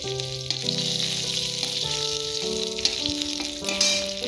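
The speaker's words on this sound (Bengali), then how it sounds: "আগে রসুনটা দিয়ে দিয়ে একটু ভাজা ভাজা করে নিতে হবে" Steady hiss of garlic frying in a pan, continuous and close, with a faint tonal hum running underneath.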